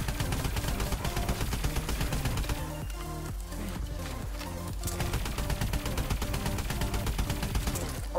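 Gunfire in a Call of Duty: Advanced Warfare 1v1 match: rapid, closely spaced shots crack out in loud bursts, briefly thin out midway, then resume dense and steady.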